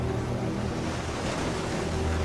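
Ocean waves surge onto a shore in a wild coastal setting, a continuous loud rushing roar of surf with no separate breaks standing out and no voices.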